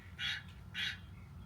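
Two harsh caws from birds in a hot outdoor garden, spaced about half a second apart, moderately near and standing out over a low background hum.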